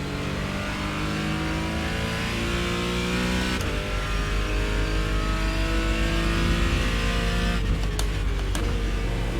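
Race car engine in a sim racing game, a continuous loud whine holding steady with gear-like pitch shifts, plus a brief thump midway and clicks near the end.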